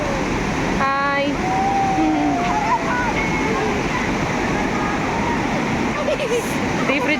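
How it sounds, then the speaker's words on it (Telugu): White-water rapids on a river in Kullu roar steadily and close during a rafting trip. A few brief voices cry out over the constant rush. "రివర్ రాఫ్టింగ్స్ అయితే ఫుల్ జరుగుతున్నాయి"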